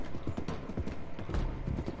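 Horse hooves clip-clopping in the video game Red Dead, a steady rhythmic trot of muffled thuds at moderate volume with faint mechanical creaks behind, and no voices.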